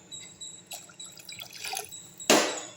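Water poured from a tumbler into a pressure cooker for pea pulao: a few light drips and clinks, then a brief, loud rush of liquid near the end.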